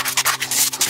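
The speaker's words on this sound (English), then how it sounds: "But I'm just gonna sand it and then use some wood filler." A small wooden craft item sanded by hand, a brief burst of close, brisk rubbing strokes with a quick uneven rhythm.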